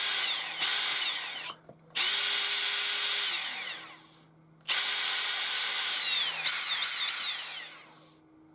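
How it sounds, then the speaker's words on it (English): Small electric motor of a Traxxas Mini Maxx RC car spinning up in several high whining runs, pitch rising and falling with short pauses between bursts, close and loud with no talk. "I'm going to check the motor's okay, that it's just quiet when it runs."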